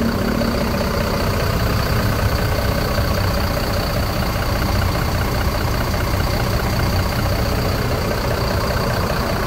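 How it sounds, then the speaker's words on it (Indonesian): Mercedes-Benz OH 1626L bus engine idling nearby, a steady low diesel rumble with a constant hum over it, even and loud throughout with no talk. "kita dengar dulu bunyi mesin dari Mercedes-Benz OH 1626L"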